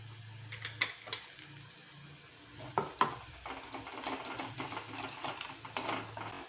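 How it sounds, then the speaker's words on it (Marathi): Spice masala for homemade amla pickle sautéing in oil, with irregular spoon clicks and scrapes against the pan over a faint low sizzle, fairly quiet and close. "मसाला आपला छान असा परतून घ्यायचा आहे"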